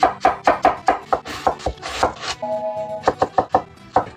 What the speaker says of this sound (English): we're just going to chop them up real fine